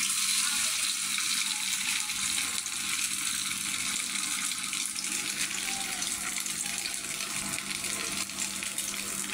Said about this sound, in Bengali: তেলে দিয়ে ভাজা নিব